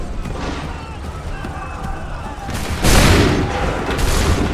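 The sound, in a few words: musket volley fired by troops, from video game Assassin's Creed 3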